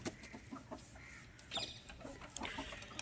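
Hens and roosters around six to six and a half months old cluck on a poultry farm, scattered short calls near and far over a low barn hum.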